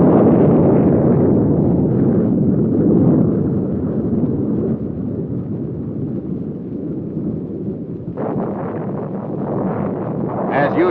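An Honest John rocket launched at White Sands Missile Range: a loud, sustained roaring rumble with wind-like noise slowly fades, then a brighter burst of noise rises near the end.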